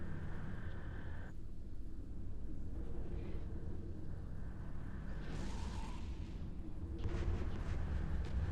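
Missile impacts bursting against a spaceship in the mobile space game Eve Echoes, a steady run of muffled, rumbling booms over a constant low drone, with brighter bursts standing out near the end.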